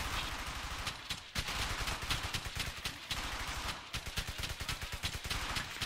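Sustained gunfire in the Brothers in Arms video game, rapid bursts of close shots rattling continuously for several seconds with brief pauses between volleys.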